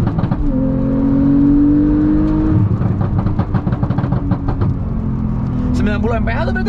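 A Porsche Carrera 4 GTS with a manual gearbox and Stage 2 tune revs hard in sport mode, its loud engine note climbing then settling into a throbbing drone, with people talking excitedly over it.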